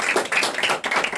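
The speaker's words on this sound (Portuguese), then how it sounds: "Uma salva de palmas aqui para nossa amiga Marélia" A short burst of audience clapping at a photo club gathering in Paraty, with a few irregular hand claps close by and no crowd roar, heard alone without talk.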